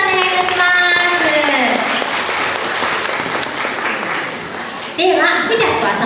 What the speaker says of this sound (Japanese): 大きな拍手お願いいたします。